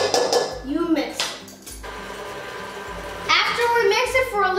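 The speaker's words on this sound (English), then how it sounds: "Then you mix it." Clinking utensils scrape and tap against a bowl while stirring peanut butter bar batter, with someone speaking over the clatter.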